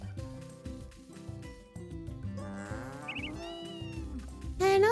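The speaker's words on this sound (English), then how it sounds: "I hear you meowing." A cat meows in Story of Seasons: A Wonderful Life, a short rising mew heard over bouncy game music, followed by a louder burst at the end.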